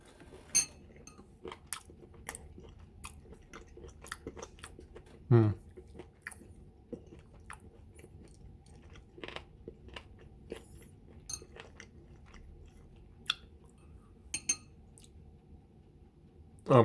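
Someone chews crispy cooked chicken stomach close to the microphone, with scattered crunches and clicks, a few sharper bites and occasional faint clinks of cutlery.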